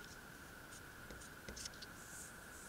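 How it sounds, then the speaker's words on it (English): Pen or marker writing a name on drawing paper, a quiet scratchy stroke sound in short bursts with small taps, heard close in a quiet room over a steady faint hum. "Let me write my name on it."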